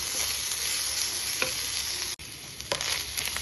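Grated coconut sizzles and fries in a hot pan while being stirred, a steady crackling hiss with occasional scraping strokes, close and continuous with a brief dip partway through; no one speaks.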